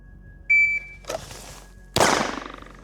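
A sharp shot-timer beep starts the run, then a pistol drawn from a holster fires a single loud shot at a steel gong about seven metres away on a shooting range, and the gong's metallic ring decays afterward.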